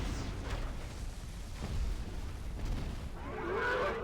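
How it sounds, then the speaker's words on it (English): Durin's Bane, a Balrog, breathes fire during a battle in the Age of the Ring strategy game: a steady, loud low roaring rumble, with a brighter crackling burst near the end. "He's using Breathe Fire right now."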